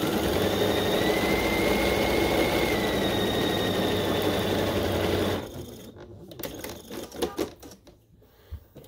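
A sewing machine runs steadily while stitching a quarter inch quilt seam, a loud continuous mechanical whir that stops partway through, followed by a few faint handling clatters.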